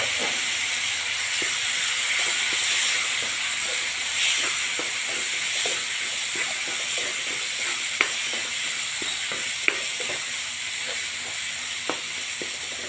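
Maggi masala frying in a pan after a couple of spoons of water are added, a steady close hiss and sizzle with scattered pops and clicks throughout.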